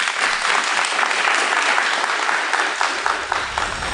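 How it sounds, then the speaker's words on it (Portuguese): A loud, dense round of applause from an audience fills the whole stretch, steady and close, with some crowd noise under the clapping. "uma salva de palmas para vocês."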